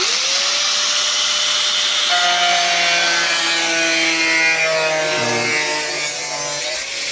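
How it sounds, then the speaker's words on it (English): A tool cuts a section off the sill of a VW Golf GT TDI Mk5 during welding repairs. The loud, continuous whine runs throughout, and its pitch shifts and bends as the cut goes on. "that's Mick cutting the bit off that we don't need"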